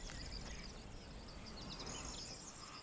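Bush crickets on open heathland keep up a continuous high, buzzing chirr, steady and fairly faint, with no other sounds over it.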